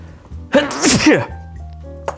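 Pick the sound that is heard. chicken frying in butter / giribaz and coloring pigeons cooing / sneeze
sneeze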